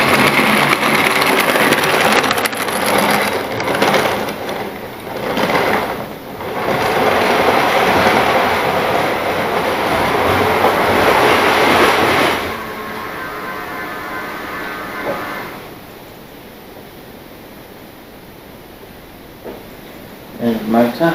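Model railway trains run along their track with a loud continuous clattering rumble for about twelve seconds, then fade to a quieter, thinner rolling before a few brief knocks at the end; a voice may be audible at times.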